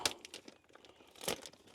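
Brand-new plastic bag of smoker pellets handled up close, giving quiet, irregular crinkling bursts, with a sharper rustle near the start and another louder crackle toward the end.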